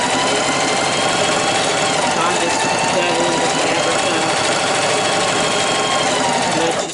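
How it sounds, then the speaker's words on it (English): A Singer 4423 heavy-duty sewing machine stitches through heavy upholstery fabric with a loud, close, steady mechanical whir that runs without a break before it stops at the very end. "This is supposed to be a heavy duty machine that can sew on heavier fabrics."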